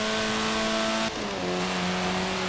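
Lotus Elan 1960s sports car engine in the Forza Horizon 4 racing game, a steady loud drone that drops pitch sharply around the midpoint as the car shifts gear, then holds a lower hum, with no talking.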